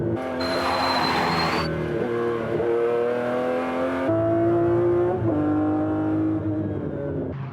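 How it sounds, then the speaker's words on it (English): McLaren Formula One cars braking hard at the end of the main straight at Anderstorp, where engine notes fall in stepped downshifts while the cars pass loud and close with faint tire noise. "At the end of the main straight at Andersdorp, The McLarens decelerate from 175 to 50 miles per hour in 2 seconds, thanks to super-efficient carbon fiber brakes."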